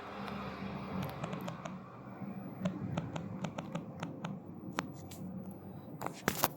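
Light keystrokes tap out a name on a computer keyboard, scattered clicks in short uneven bursts, quiet and close over faint room hiss.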